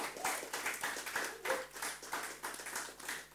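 A church congregation at a Sunday worship service claps for the guitarist, a short run of fairly even, rhythmic handclaps at moderate level with no voices over it.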